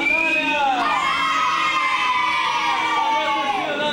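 A crowd of children at a school activity day shouts and cheers loudly and continuously, with high excited voices and whoops layered together close by.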